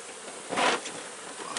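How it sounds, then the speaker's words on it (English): Honey bees buzzing at a strong, healthy hive, a close steady hum that swells briefly, with no voices. "Bees."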